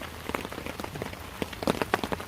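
Rain pattering steadily on a camp in a wild-camping rainstorm, a dense patter of close drops with sharper individual hits striking nearby surfaces, alone without voices.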